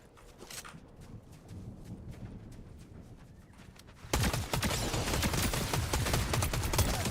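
Rapid bursts of gunfire from a Fortnite match crackle in dense volleys, moderate at first and then suddenly much louder and more intense for the final few seconds.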